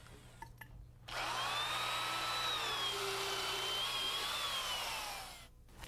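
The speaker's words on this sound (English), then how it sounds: "We use a heavy-duty drill motor and a good sharp auger bit to drill our holes." A heavy-duty drill with an auger bit whirs up and runs steadily for about four seconds, a loud, close motor whine biting into wood floor framing before winding down.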